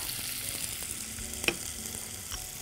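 Onion frying in a pan, seasoned with salt, pepper and thyme: a steady, fairly quiet sizzle with a few light taps of a utensil against the pan.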